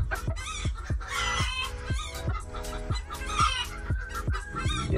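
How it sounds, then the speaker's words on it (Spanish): A brooding speckled hen sitting on ten eggs clucks in a steady run of short, loud, close clucks, with other fowl calling around her and no talk. "está echadita ya la gallina."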